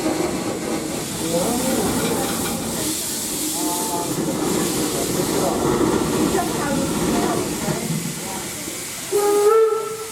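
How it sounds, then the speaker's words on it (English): Torch Lake Number 3, a steam locomotive at Greenfield Village, hisses steadily with rumbling rail noise before a short, bright steam whistle blast sounds near the end, loud and close. "listen for the whistle"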